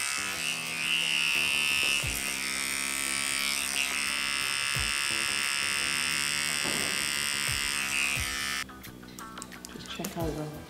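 Electric hair clippers taper the hair along a neckline and around the ear, a steady close buzzing hum that changes pitch and texture near the end as the clippers move.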